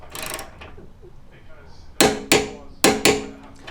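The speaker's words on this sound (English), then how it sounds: "This is a 17 millimeter socket, and I'm torquing it to 40 foot-pounds." A torque wrench tightening a 17 mm socket to 40 foot-pounds makes four sharp, loud clicks in two close pairs, following a softer stretch of handling noise.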